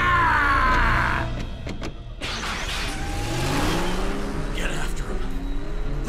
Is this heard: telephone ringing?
no